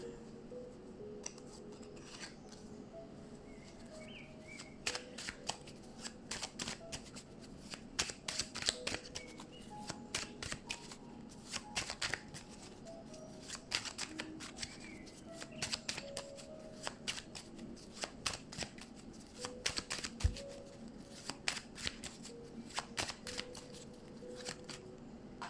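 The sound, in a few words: shuffling oracle cards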